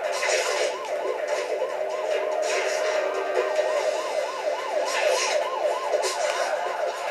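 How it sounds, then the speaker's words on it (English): An ambulance siren in the video game Spider-Man: Web of Shadows on PS3 wails in a fast, repeating up-and-down pattern, loud and steady throughout with no voices. "Damn, the ambulance almost knocked me over."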